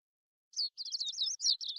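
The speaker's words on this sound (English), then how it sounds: "Sounds of birds chirping slowly raising me from my dreams into consciousness." Birds chirping in a video game, a quick run of bright, clear tweets in close succession after a short silence, crisp and near with nothing else heard.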